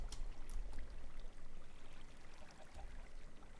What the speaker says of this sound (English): It's a great waterfall.